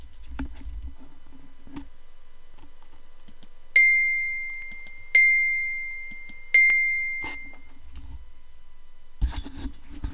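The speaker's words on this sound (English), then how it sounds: "That sound is almost the same sound that you get when you get a text on an iPhone." A RedKey USB tool gives three bright, ringing notification dings, much like a phone text tone, each with a sharp onset and a fading tail. They are evenly spaced, with faint background noise between them.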